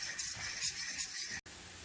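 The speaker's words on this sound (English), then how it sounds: "Just stir it up a bit." Seasoned oxtail with onion powder being stirred in a pot, giving a steady close scraping and sizzling texture that runs for about a second and a half, then cuts out briefly before continuing more quietly.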